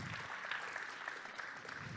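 Audience applause for award winners at a data visualization awards evening, a steady dense wash of many hands clapping at moderate level with no talking.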